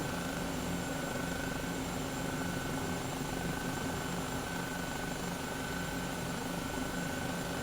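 A simulated helicopter in a flight simulator game drones with a steady, unbroken rotor and engine hum, constant in level throughout with no voices over it.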